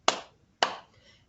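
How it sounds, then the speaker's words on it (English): Preschool children clap their hands twice along with a song, two crisp, close claps about half a second apart. "clap your hands"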